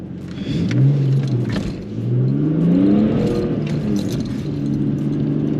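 A car launches hard and accelerates with traction control on, the engine revving up in rising sweeps, cutting back and climbing again, loud and close throughout.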